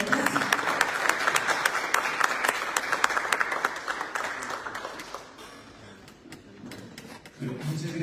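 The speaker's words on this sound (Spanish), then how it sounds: "un fuerte aplauso para ellos, para ellas" Applause from the audience at an international seminar panel on territorial reconfiguration, close sharp claps that fade out midway, followed by murmuring voices and shuffling.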